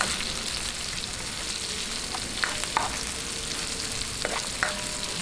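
Onions, added after ginger, sauté in a hot pan for a Filipino milkfish soup (tinolang bangus). A steady close sizzle runs throughout, with a few brief scraping stir clicks near the middle and end.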